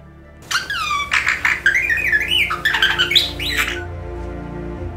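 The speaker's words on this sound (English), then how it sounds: "And this is the sound that a bird makes." A lively bird call of rapid squeaky chirps and warbling whistles, sliding up and down in pitch for several seconds, close and fairly loud.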